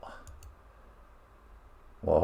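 A computer mouse on a PC gives a couple of faint, quick clicks in a quiet room, followed by a louder burst of noise at the very end.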